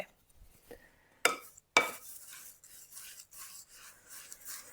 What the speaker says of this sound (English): just mix it so that your oats and your coconut are pretty well covered in your coconut oil and your honey mixture